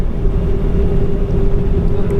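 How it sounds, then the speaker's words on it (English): The engines of a Lufthansa Airbus A380 warm up on the runway before departure, heard from inside the cabin as a loud, steady roar with a constant droning tone. "Engines are warming up."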